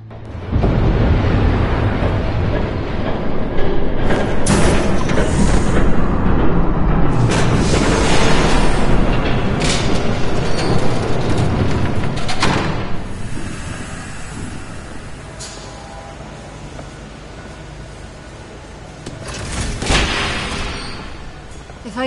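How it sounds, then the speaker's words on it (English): Train rushing past in a PS4 video game, a loud, broad roar that swells and fades with a few sharp clanks over a windy, rumbling wash. "There's a train coming."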